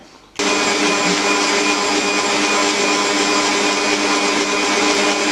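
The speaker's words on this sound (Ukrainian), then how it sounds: "І ось такою насадочкою починаю його збивати." An electric hand mixer fitted with a whisk attachment whips room-temperature butter for a cake cream. It starts abruptly and runs as a loud, steady, high-pitched whir with no talking.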